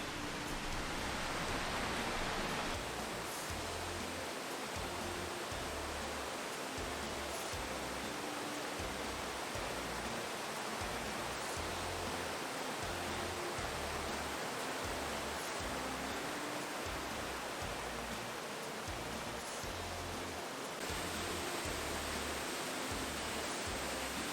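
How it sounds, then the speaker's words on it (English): Waterfall near Nelson, a constant, even roar of falling water with steady broadband rush and no talk, unchanging throughout. "There also seems to be waterfalls, so let's go see."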